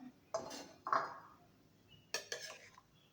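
A utensil scrapes and knocks against a pan while rohu fish belly pieces are gently stirred in a simmering curry, three short separate bursts of clatter over quiet background.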